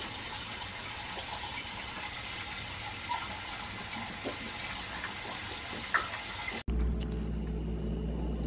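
Tap water gushing steadily into a pet's bowl indoors, a continuous hissing pour that cuts off abruptly near the end, followed by a quieter room hum.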